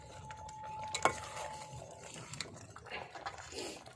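A spoon stirring jaggery rasiya in a pot on a new clay stove on a rooftop at night: soft scraping strokes with a sharp clink early on, then quieter irregular stirring.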